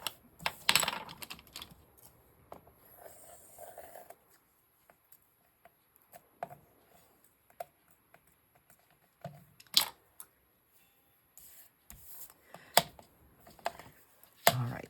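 Paper pieces for tag folios being cut at a craft table, heard as sparse, close, crisp snips and taps spaced out over quiet gaps, with no talking.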